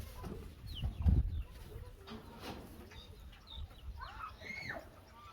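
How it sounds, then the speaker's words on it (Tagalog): A hen with small chicks on a rural farm in Tarlac clucks in short, quiet calls over faint farmyard background noise, with a soft knock near the start. "Tapos may manok, may maliliit siyang anak."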